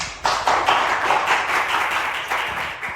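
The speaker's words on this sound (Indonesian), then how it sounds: "Tepuk tangan buat Hasan." A class at a maritime polytechnic claps for a student, giving a dense round of applause that starts sharply and carries on steadily for about three seconds.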